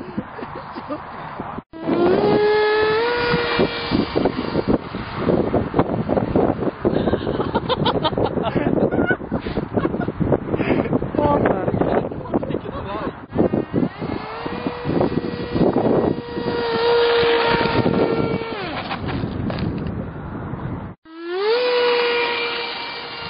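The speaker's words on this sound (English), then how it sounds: "Jeez, it's windy." Strong wind buffets the microphone outdoors during a flight of a repaired RC fighter plane, a loud continuous roar with the model's motor whining in and out over nearly the whole stretch.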